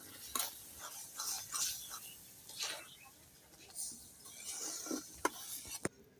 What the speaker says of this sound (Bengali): এবার নেড়ে ছেড়ে ভালো করে একটা ডো বানাই